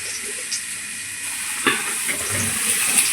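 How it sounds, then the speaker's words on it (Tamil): A sizzling tempering of cumin and green chillies poured into spinach dal, giving a steady hiss with a few soft splashes and clinks, close and even, with no voices. "தாளித்து ஊற்றிக்கோங்க"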